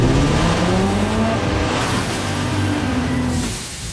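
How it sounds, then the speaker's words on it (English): A car engine revs hard, its rising and falling whine loud and close against heavy roaring noise, easing off slightly toward the end. "Rev up your engine."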